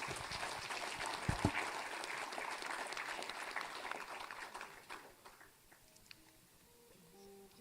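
An audience at a business forum applauds the presenters, a dense, steady round of clapping that fills the room for several seconds before thinning out and fading.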